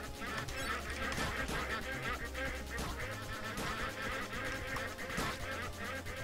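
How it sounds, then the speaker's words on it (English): Ducks quack and honk amid a busy, continuous layer of game music and effects in the video game Legend of the Brosfist, the calls blending into the steady mix rather than standing out alone. "Damn, poor ducks."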